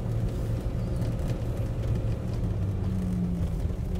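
A 1991 Jeep Wrangler YJ Renegade drives in third gear at about 30 km/h and 2000 rpm, its engine a steady, close, loud rumbling drone with no talk.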